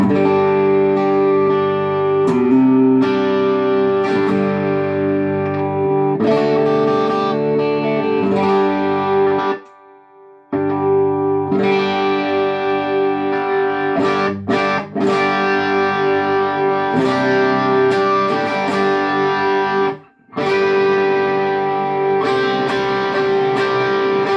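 Distorted electric guitar through the overdrive clone channel of a Marshall JTM Studio amplifier, playing continuous chords and riffs with a crunchy overdriven tone, loud and sustained, with two brief pauses.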